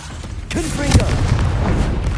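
A heavy blasting-spell explosion booms in a Harry Potter video game, one loud thudding burst that rumbles and trails off over about two seconds.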